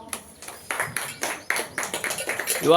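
A small audience at a Tamil devotional gathering claps, giving scattered, uneven hand claps that build into a light patter, close and moderately loud, with no one speaking over it.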